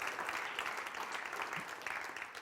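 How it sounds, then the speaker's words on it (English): A church congregation applauds with steady, dense hand clapping that fills the room, faint and distant, with no break throughout. "give the Lord a good hand clap to that"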